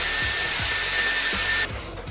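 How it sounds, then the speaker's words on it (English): A Dyson Airwrap pre-styling dryer blows a steady loud rush of air up close, with a high whine throughout that cuts off near the end as the airflow shifts. "first I'm going to use the pre-styling dryer to dry my hair a little bit"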